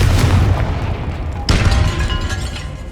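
A Confringo fire spell in Hogwarts Legacy detonates with a loud, close booming blast, followed by a second sharp explosive burst and a rumbling tail.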